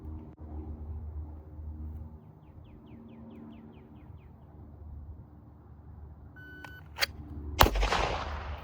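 A Smith & Wesson M&P Competitor HD steel-frame pistol fires at steel targets about 10 yards away, with a couple of sharp reports near the end after a quiet outdoor stretch with faint chirps.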